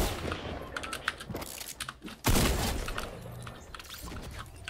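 An opponent's rapid gunfire in a video game, repeated bursts of shots crackling at moderate distance, with a loud blast midway followed by more scattered firing.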